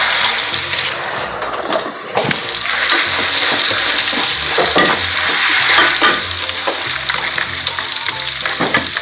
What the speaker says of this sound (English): you're gonna dump this whole bag in, this mixture here, and then you're gonna fry that up for about a minute or so